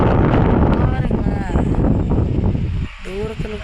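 Strong wind roars steadily across the microphone in a village during the windy season, a loud broadband rush that dips briefly near the end as a voice speaks.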